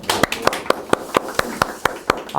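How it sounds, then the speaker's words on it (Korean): Audience clapping in unison at a Korean army interpreter officer recruitment briefing, a steady rhythm of about ten sharp, evenly spaced claps that sound close and fairly loud. "박수 한번 주세요."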